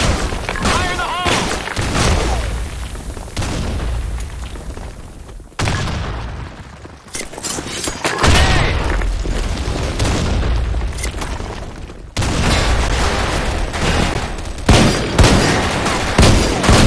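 Video game combat on the Broken City map, with loud grenade booms and dense bursts of gunfire filling the scene almost continuously, broken by a few short pauses, while voices call out.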